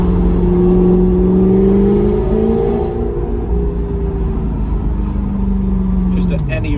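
An Audi R8 fitted with a new exhaust, its engine droning loud and close as revs rise and fall steadily, with someone talking over it.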